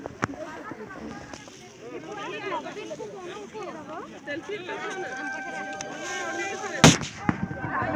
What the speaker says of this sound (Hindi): ये कौन फटा रहा है यार ये पटाखे?